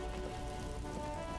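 Rain falls steadily in the video game Disco Elysium, a soft, even hiss with a faint tonal hum beneath, constant across the brief moment.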